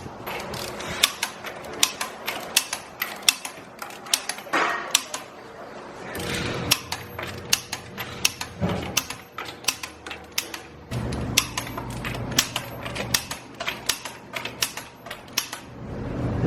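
A wrench on the lug nuts of a 2024 Toyota Tacoma during service, heard as rapid ratcheting clicks in repeated runs with brief pauses, up close over a dealership shop background.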